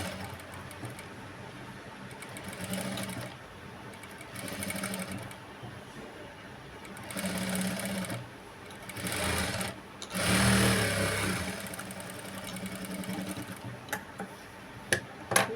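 A sewing machine stitching a blouse with pink thread runs in several short bursts, quiet and close, with the longest and loudest run near the end and brief pauses between runs.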